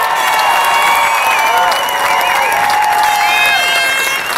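A crowd at a Melbourne lockout rally claps and cheers for the organisers, a dense, loud, steady wash of applause with scattered shouts and whoops throughout.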